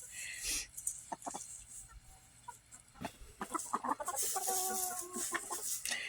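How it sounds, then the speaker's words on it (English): Quiet hens cluck and murmur intermittently in the background of a chicken run, with scattered clicks and rustling around them, fairly faint and distant. "I think my other hen is inside the chicken run by herself."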